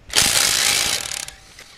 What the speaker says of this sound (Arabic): هنبدأ بفك مسمار مربوط على 100 نيوتن